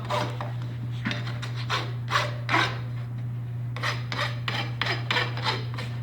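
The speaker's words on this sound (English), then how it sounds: "Make sure that I grind my nails so that I don't tear into the hoof." A rasp files clipped horseshoe nails flush against a horse's hoof after shoe removal, giving steady rhythmic scraping strokes, close and loud, over a constant low hum.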